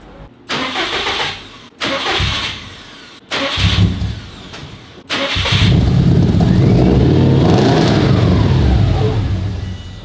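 An STi-engine-swapped GC8 Subaru Impreza cranks in short bursts, stalls between tries, then catches and roars, revving loudly and steadily up close.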